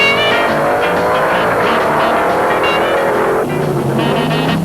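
A 1972 Dodge Challenger drag racing car at the UDRA Spring Nationals roars down the strip, a loud sustained engine howl rising in pitch through a pass, with crowd and track noise mixed in.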